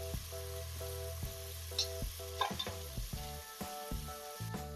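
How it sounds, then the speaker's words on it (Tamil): Sliced onions frying in a pan for a cowpea biryani, a steady close sizzle with clinks and scrapes of stirring recurring through it, no voices. "வெங்காயத்தை சேர்த்து நல்லா நம்ம மிக்ஸ் பண்ணி விட்டுடலாம்"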